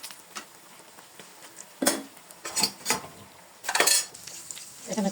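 Brinjal (eggplant) slices frying in a pan, with a soft constant sizzle under several sharp bursts of metal utensil clatter against the pan, spaced irregularly, close by.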